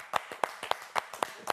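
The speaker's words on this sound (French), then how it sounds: "on l'applaudit bien fort" A small number of people clap for Nolwenn at a Paris event, a brief, sparse and fairly faint patter of about seven distinct claps, heard alone.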